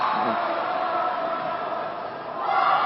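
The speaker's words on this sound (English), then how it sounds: "Nice cheering squad, getting loud in here." A loud indoor crowd cheers and roars steadily at a women's dodgeball world championship match, Canada vs Malaysia in Cancun, with a commentator talking over it.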